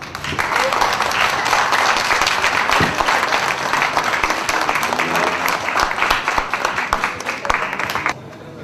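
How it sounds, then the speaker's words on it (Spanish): A congress audience gives sustained, loud applause in tribute to the departed, dense clapping holding steady for about eight seconds before dropping away abruptly. "les brindamos un aplauso a todos aquellos que ya desaparecieron"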